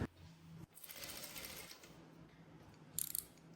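A sewing machine stitching two fabric layers for an underwire bustier, running in a quiet mechanical whir that stops partway, followed by a brief cluster of sharp metallic clicks near the end.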